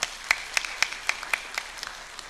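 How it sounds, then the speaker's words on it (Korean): Church congregation during a Sunday service giving a short round of applause, about eight or nine distinct rhythmic claps that grow fainter and trail off. "박수로 하나님께 영광 돌립니다."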